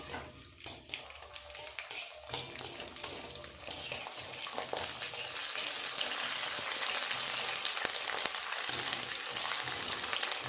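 Fuchka puris frying in hot oil at home and being stirred, a hissing, bubbling sizzle that swells and grows steadier, with light clinks and scrapes and no talking.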